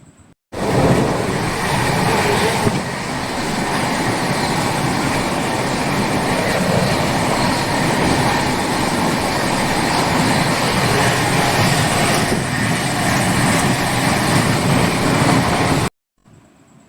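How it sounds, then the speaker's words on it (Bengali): From inside a Duronto superfast train running from Howrah, a loud, steady rumble of wheels and carriage noise fills the space with faint rhythmic clatter throughout; no one speaks. "এবার ট্রেনে ছেড়ে দিয়েছে"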